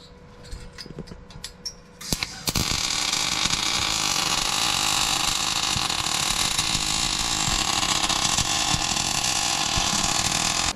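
A vehicle engine with a brand-new exhaust, its tip cut from an old Duramax diesel, rises into a loud, continuous roar after a few seconds of quieter clicks and clatter, holding steady to the end.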